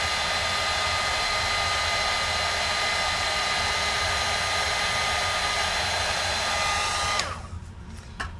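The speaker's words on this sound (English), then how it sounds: "let it heat up, which it's already been on, so it's going to heat up a lot faster. And then I'm just going to go ahead and melt that powder" A heat tool melts embossing powder with a loud, steady blowing whir that holds for about seven seconds and then cuts off, followed by a few faint clicks.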